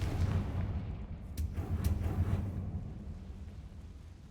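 Confringo explosion spell in the game Hogwarts Legacy, a deep rumbling blast with a couple of sharp crackling bursts that fades into a low fading roar, moderately loud with no talk.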